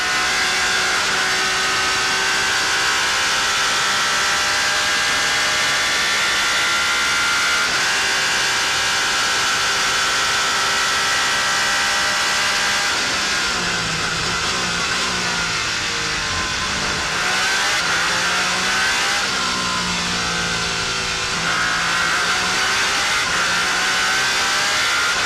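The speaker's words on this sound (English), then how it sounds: "Let's hear the noise of the Peugeot 9x8 battery-electric hybrid engine inside the cockpit." A loud Peugeot 9X8 battery-electric hybrid hypercar engine at Le Mans 2023 roars continuously, heard from inside the cockpit, its pitch rising and falling as it revs through the gears.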